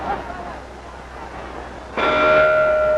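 A boxing ring bell clangs at the end of a round in a 10-round bout between Jim Braddock and Tommy Farr, ringing out sustained and metallic over crowd noise and a commentator's voice.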